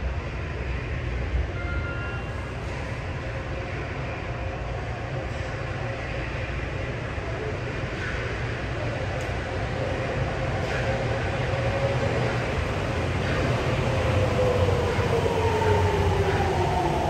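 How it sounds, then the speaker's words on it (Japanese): A Makomanai-bound subway train pulls into platform 1 at Asabu Station on a weekend evening during track equipment renewal work, a loud steady rumble of wheels and motors building, with rising wheel squeal as it slows near the end. "まもなく1番ホームに真駒内行きが到着します。"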